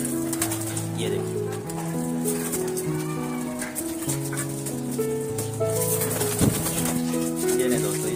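Pigeons cooing in soft repeated low notes, several birds at once as they come out of their enclosure, with a steady background murmur and occasional rattling clatter.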